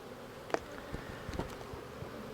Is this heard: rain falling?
no